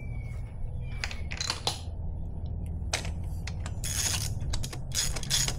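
A ratchet on a long extension clicks in short bursts while spark plugs are backed out of a Yamaha outboard motor, with small metallic ticks and scrapes between quieter pauses, close and fairly faint.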